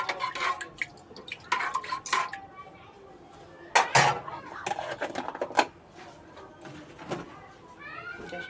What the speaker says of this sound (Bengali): সামান্য পরিমাণে আদা রসুন দিয়ে দেবে, দিয়ে একটু নেড়ে দেবে।